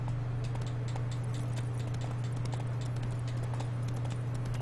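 Horse hooves clip-clop at a steady trot in The Witcher 3, carried over a constant low hum and game ambience at a moderate, even level with no talk.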